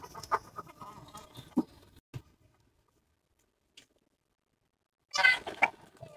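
Chickens and pigeons sitting in a cage give clucks and rustles, mixed with movement noise, then a quiet gap before a louder burst of clucking near the end.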